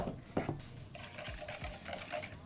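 Butter in small pieces, at room temperature, being stirred into a Christmas dessert mixture, with soft utensil scrapes and light clinks against a bowl, close and quiet, no voices.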